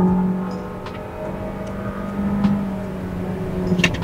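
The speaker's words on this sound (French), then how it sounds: "Le moteur Atmo rugit bien." Naturally aspirated engine of a Suzuki Ertiga revving, a steady low hum with a droning tone that swells briefly, heard close with faint clicks over it.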